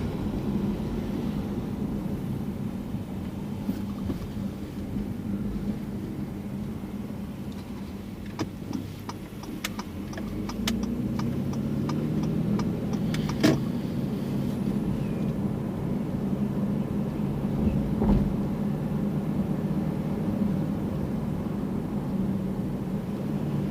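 Car engine and tyre noise from inside a vehicle on a residential drive in a Winter Garden new-home community, a steady low rumble with a few faint clicks and a slight swell as it turns.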